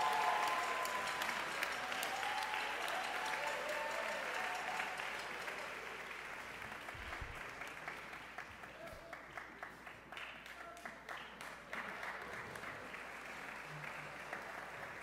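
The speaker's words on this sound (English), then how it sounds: "Please give them a huge round of applause." An audience at a Gulliver Prep school music event in New Orleans claps in sustained, dense applause that gradually thins out into fewer, separate claps toward the end.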